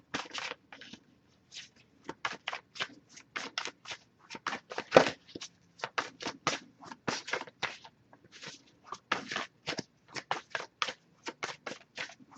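Tarot cards being shuffled by hand during a reading, quick crisp riffling bursts repeating in irregular clusters, close and fairly quiet against a silent background.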